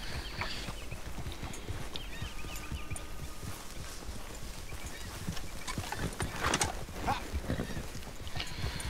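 Steady clip-clop of a white horse's hooves in Red Dead Redemption 2, over a continuous game soundscape, with faint ambient noise and a brief louder burst near the end.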